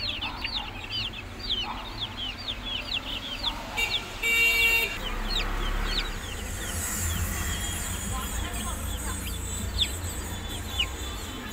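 Young chicks on a home poultry setup chirp in many quick, high peeps throughout, under a steady rustling background with a brief clatter midway; no one speaks.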